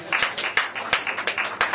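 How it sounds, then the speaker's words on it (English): A small open-mic poetry audience in a pub applauds the landlord, giving light, uneven clapping from a modest crowd with distinct individual claps standing out, fairly close and moderately loud. "Can we give a round of applause for the landlord?"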